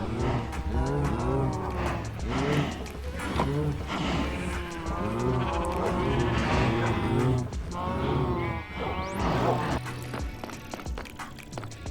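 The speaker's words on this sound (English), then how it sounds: "As you can hear all the sheep and cows above us." Several Minecraft cows moo repeatedly, overlapping one another with sheep bleats mixed in, fairly close and loud, with faint background noise underneath.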